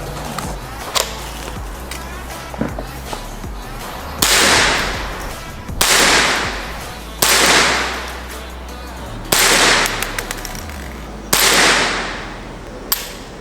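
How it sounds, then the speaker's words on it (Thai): Gun test firing five rounds at a target: sharp, loud, close shots spaced a second or two apart, each with a short ringing decay, mixed with lighter clicks and handling noise between them. "ยิงทดสอบดูว่า มันจะเป็นยังไงบ้างนะครับ"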